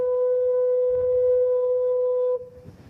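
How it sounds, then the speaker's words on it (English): The Lizard Lighthouse foghorn in Cornwall sounds one long, loud, steady low tone close by, holding for over two seconds before cutting off into a faint outdoor background. "its foghorn sounds like this."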